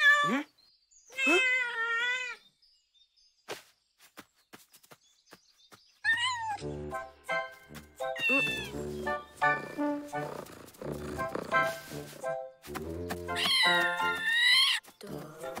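A cartoon cat gives several drawn-out, high meows, some alone and some over busy background music and effects, loud and close.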